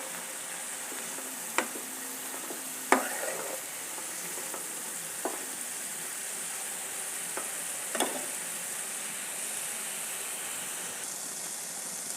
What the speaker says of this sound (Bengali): এখন দিয়ে দেবো আলু আলু কুচি ভালো করে নেড়ে দেবো